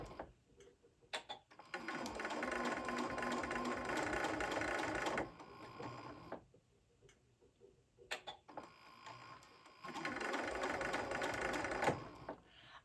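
Home sewing machine stitching quilted placemats at a slow setting, two sustained runs of rapid mechanical ticking, each about three to four seconds, separated by quieter pauses with small clicks and handling.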